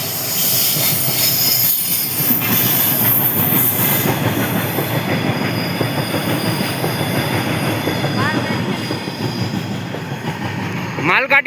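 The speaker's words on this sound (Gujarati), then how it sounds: "ગાડી આવી ગઈ." A goods train rumbles loudly past close by, steady wheel noise filling the scene, with squealing wheels near the end.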